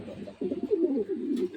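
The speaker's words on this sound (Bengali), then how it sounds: "এখানে এক পেয়ার সবজি রেসার কবুতর" A pair of racer pigeons gives one soft, throaty coo lasting about a second, heard close and fairly faint after a brief quiet start.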